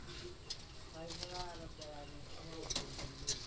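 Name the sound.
Jalali wild pigeons cooing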